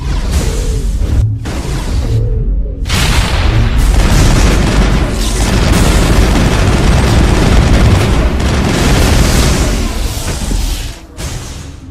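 Mass Effect combat: loud, dense gunfire bursts mixed with heavy booming explosions, rapid and continuous for most of the stretch, with brief gaps near the start and a drop in intensity at the end.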